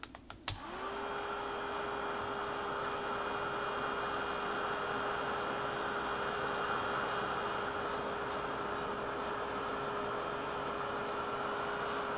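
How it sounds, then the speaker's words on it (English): A heat gun blows hot air over a mixed media piece salted to dry. After a click it starts up and holds a loud, steady whooshing drone with a constant whine, close and unbroken, and no one speaks. "we'll try it with a heat gun to see what it does"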